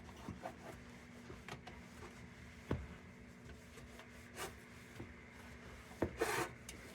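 A microfiber cloth rubs and wipes over an Embury Air Pilot railroad lantern in quiet, soft strokes, with a few sharper scuffs and a louder burst near the end.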